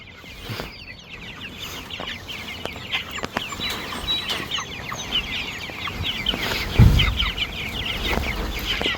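Several chickens cluck and murmur continuously close by, with a few sharp squawks and a brief thump partway through.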